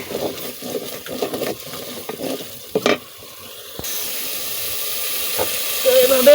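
Egg and kumro bori are stirred and sautéed in a hot pan, with a sizzling hiss and scraping stirs; a steady frying hiss continues in the second half, and someone speaks at the start.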